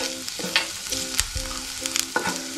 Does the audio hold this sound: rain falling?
no